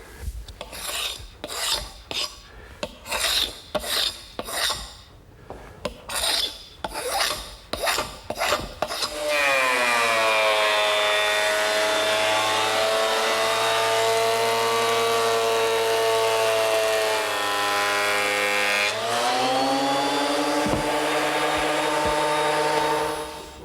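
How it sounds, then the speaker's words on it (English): A 12-inch surface planer smoothing a wooden butcher block blank: rhythmic rasping passes for about nine seconds, then a loud sustained motor whine with harmonic hum as the board feeds through, close by. "just wide enough to fit in a 12-inch surface planer, which is where I want to go next, smoothing up the top and bottom surface"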